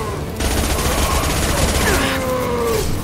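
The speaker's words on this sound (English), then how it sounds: "Hostile fire. Taking cover." Gunfire in the video game Mass Effect 2, a short burst of rapid automatic shots close and loud over the game's ambient sound, while a voice speaks over it.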